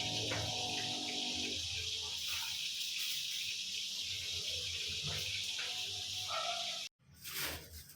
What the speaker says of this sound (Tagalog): Ayan, hugasan na po natin ang ating in-order na scallop.